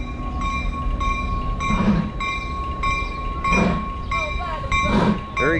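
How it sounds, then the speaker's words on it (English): A Thomas the Tank Engine steam locomotive approaches at Strasburg, Pennsylvania, with rhythmic chuffing bursts of steam over a steady rail rumble and metallic clinking, with people talking nearby. "There he comes, a huffing and a puffing."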